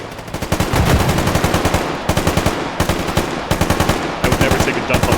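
Rapid automatic gunfire in the video game Stalker Anomaly comes in loud repeated bursts of closely spaced shots with brief gaps between volleys, with no talking.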